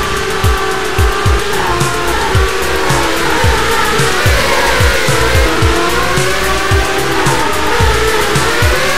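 Formula One race cars in the F1-Drive racing video game roar steadily with loud, continuous engine drone, repeated gear shifts and tire squeal throughout, no talk.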